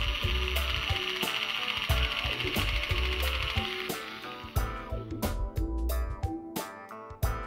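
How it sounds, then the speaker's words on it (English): A drill bores a small hole in the housing for a wired remote volume control, a steady close mechanical whirring chatter that breaks into sharp clicks and stops toward the end. "And drilled."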